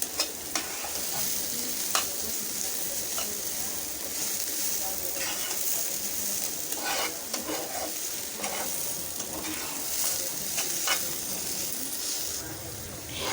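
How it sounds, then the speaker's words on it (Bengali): Beaten egg is stirred through frying papaya bhaji in a pan, giving a continuous sizzle with repeated spatula scrapes and knocks at an uneven rhythm. "এখন আমি সম্পূর্ণ ডিমটা পেঁপের সাথে মিশিয়ে দেব।"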